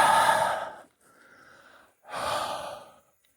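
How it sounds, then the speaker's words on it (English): Heavy breathing, two strong forceful exhalations with a softer breath between them, close and clear with no talking over it. "I'm literally breathing like steam smoke right now."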